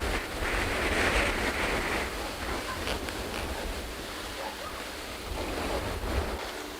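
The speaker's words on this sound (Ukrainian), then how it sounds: "Оце піднявся вітерець." Wind rises and gusts in a steady, loud outdoor roar buffeting the microphone during spin fishing by the water, with a faint wash like waves beneath it.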